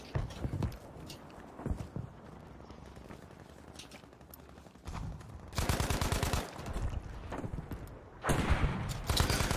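Gunfire in the shooter game Battlefield V arrives in rapid bursts: long stretches of fast automatic shots and scattered single cracks, loud and close, over background battle noise with no talk.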